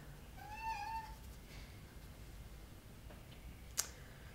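A single clear cat meow, fairly close and drawn out, rises once in a quiet room, followed by faint scattered clicks and one sharp tap.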